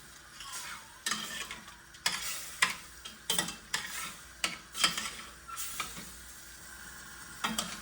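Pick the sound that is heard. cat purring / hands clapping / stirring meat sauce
stirring meat sauce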